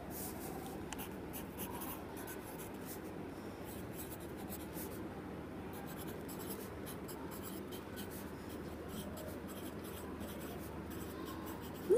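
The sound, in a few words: writing with a pen on paper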